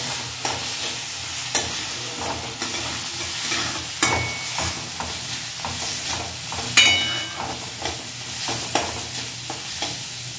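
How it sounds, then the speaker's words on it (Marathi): Moong dal stirred and sautéed in a pan for shepu (dill) bhaji, with a steady sizzle under repeated scraping strokes of a spoon against the pan, some sharper clinks standing out. "डाळ पण आपल्याला चांगल्या प्रकारे मिक्स करून घ्यायची आहे, परतून घ्यायची आहे त्यात"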